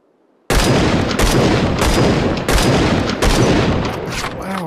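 Video game gun firing in several sharp bursts, loud and close, each blast followed by a short echoing tail, with a brief silence before the first shot.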